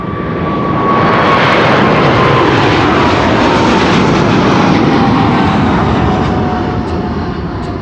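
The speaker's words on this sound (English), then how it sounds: "Taking off. That's a sound that's second to none." Boeing 777 jet taking off at Amsterdam Schiphol on a sunny day: a loud, close, sustained engine roar with a rising whine that swells in and slowly fades, heard on its own without speech.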